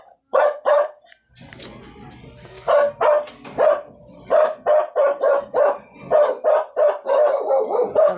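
A dog barks over and over at close range during an outdoor gathering for Bible study, its sharp, loud barks coming in quick bursts with short gaps, and a voice is heard briefly early on.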